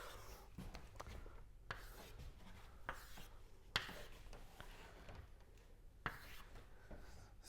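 Marker strokes on a classroom board as a directed graph is drawn: soft, quiet rubbing and scratching in short irregular strokes, with occasional sharper taps.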